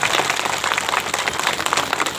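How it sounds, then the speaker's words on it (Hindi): An audience claps steadily at a gathering at a Sarna shrine, a dense, continuous patter of many hands at moderate distance with no voices over it. "ताली बजा दीजिए एक बार सबके लिए"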